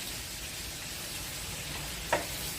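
Ginger and then garlic sweat in a pot for tinolang manok, a steady soft sizzle throughout with one brief stir or clatter near the end, close with no voices.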